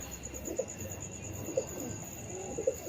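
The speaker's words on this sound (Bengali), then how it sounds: "এই ছোট্ট লফটের মধ্যে এই অল্প কিছু পায়রা" Soft low pigeon coos repeat roughly once a second, close by inside a small loft, over a steady insect-like hum and faint background noise.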